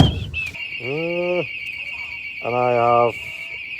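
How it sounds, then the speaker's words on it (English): A building's security alarm sounds a steady, shrill electronic tone for the whole stretch, loud and unbroken, while someone speaks briefly over it. "forgot to disarm the alarm"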